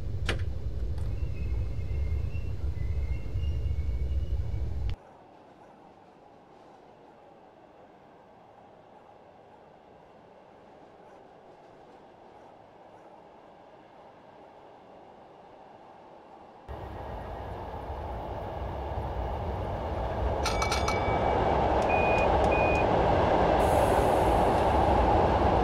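A passenger train in Train Simulator 2015 on the Coulsdon Town to London Victoria route rumbles loudly, drops to a quiet low hum, then surges back into a louder, rising roar with faint squeals and clicks near the end.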